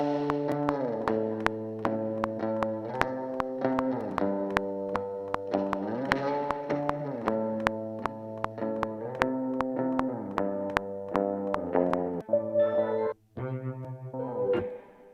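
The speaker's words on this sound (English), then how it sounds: "I'm gonna add some reverb as well." Reverb added to a trap beat in Logic Pro with stock plugins, a looping synth melody with rhythmic clicks that keeps repeating, its tail washing out and briefly dropping near the end.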